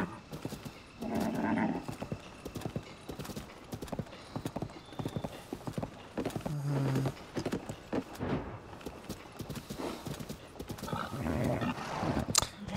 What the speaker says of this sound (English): The horse is acting up. I guess it's spooked.